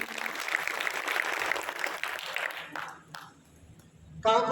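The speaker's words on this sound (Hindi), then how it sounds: "तालियां बजा दो इसके लिए" A room of people claps for a calligraphy demonstration, a steady crackle of many hands that thins out and dies away midway, followed by a stray clap and then a voice.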